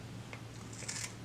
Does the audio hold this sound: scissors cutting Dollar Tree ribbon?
yes